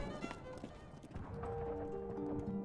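Horse hooves clip-clop steadily as a mounted general rides off in War of 1812 Upper Canada, mixed under low musical tones.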